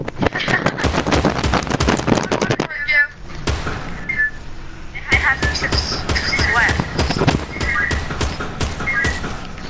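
Rapid gunshots from the battle royale game Fortnite, sharp cracks in dense bursts, then a short quieter gap before more firing resumes alongside a talking voice.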